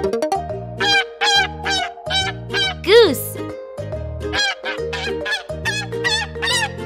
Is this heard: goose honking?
yes